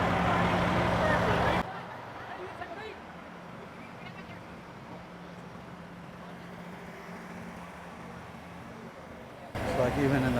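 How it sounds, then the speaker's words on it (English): A dump truck idles at a night truck show at Atlanta Motor Speedway, its engine a steady low rumble running beneath people talking nearby. "This dump truck is cool as hell. They got the motors running."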